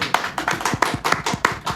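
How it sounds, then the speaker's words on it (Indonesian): Hands clap a few times in a quick, fairly even rhythm, about eight or nine sharp, close slaps with short gaps between them, alone without talk. "Gini tolong tepuk tangan"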